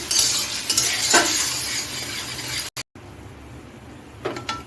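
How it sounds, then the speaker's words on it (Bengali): Ginger paste frying in a pan with a splash of water, a steady close hiss with a few stirring scrapes, briefly cutting out midway before the sizzle resumes. "আদাটা একটু ভেজে নিচ্ছি"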